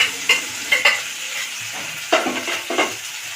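Spices, turmeric and Kashmiri chilli, frying with tomato in a pan for a fish curry. A steady hiss and sizzle is broken by several sharp scraping stirs of a spatula, close up, with no voices.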